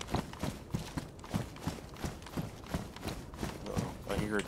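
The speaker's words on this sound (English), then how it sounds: "Oh, I hear a deer." Hoofed footsteps of a deer in DayZ patter steadily and fairly close, a quick even rhythm of soft thuds, with a person talking over them.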